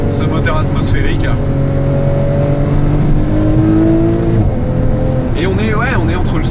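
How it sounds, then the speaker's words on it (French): Naturally aspirated engine of a Porsche 911 Carrera GTS with an Akrapovic exhaust, revving loud and close with rising and falling engine tones, a voice speaking over it. "Zone rouge à 7002, ce qui permet de bien faire chanter ce moteur atmosphérique."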